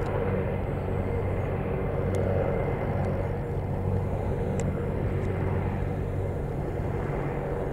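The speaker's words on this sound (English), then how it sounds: "So three Chinooks and then following behind two Puma helicopters from the RAF." Three RAF Chinook and two Puma military helicopters departing together during Exercise Joint Warrior make a steady, heavy rotor rumble that holds at an even distance throughout with no clear approach or fade.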